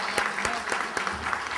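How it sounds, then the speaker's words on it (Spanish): Audience applause closing a panel session, a short patter of clapping from a modest crowd, with a voice murmuring faintly beneath the claps. "un aplauso por favor para cerrar la mesa"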